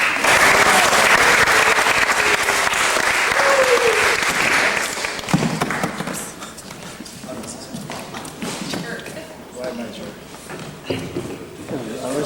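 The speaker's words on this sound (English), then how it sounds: "give a round of applause to Coleen and Jonathan" An audience gives a round of applause at a summer symposium, loud dense clapping for about five seconds that fades into scattered claps, murmuring voices and room chatter.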